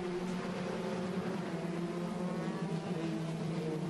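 Formula 3 race cars at speed around the Zandvoort circuit, a sustained high droning engine whine holding steady pitch, fairly loud and continuous.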